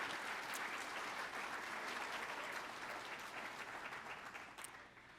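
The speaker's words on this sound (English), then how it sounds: "I'd like to just take a second to applaud those of you that came with your nurses tonight" Sustained applause from an audience at a nurse pinning ceremony, honoring the families who came with their nurses, a thick wash of many clapping hands that stays full for several seconds before tapering off toward the end.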